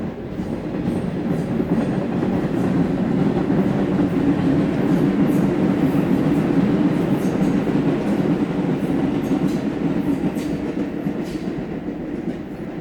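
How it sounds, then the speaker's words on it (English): A train rumbles past steadily for several seconds, a dense continuous roar with faint rhythmic clacking of wheels on track, no voices. "Here comes another train."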